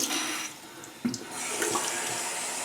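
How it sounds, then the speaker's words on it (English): Tap water runs steadily into a sink while an alum block is rinsed beneath it, a close, continuous splashing hiss with a brief knock about a second in. "rinse off the alum."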